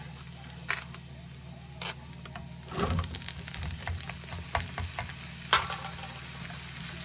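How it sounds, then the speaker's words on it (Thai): Luffa gourd pieces stir-frying in a pan, a steady sizzle with scraping stir strokes and a louder burst of frying near the middle, close and continuous. "มักจะผัดบวบก่อนนะคะเอาบวบลงก่อนนะ"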